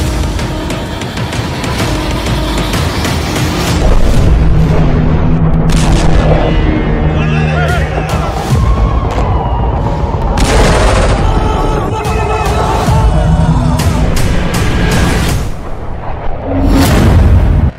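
Bombing in Gaza: repeated heavy booms and rumbling blasts with crackling bursts, loud and dense for the full stretch, with a voice heard faintly at times beneath the explosions.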